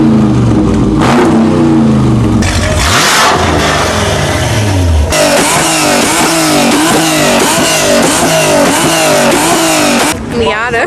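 Mazda Miata engine revving at a summer car meet, loud and close, with rising and falling engine pitch, then a burst of rapid, rhythmic revs that continues to the end over background crowd noise.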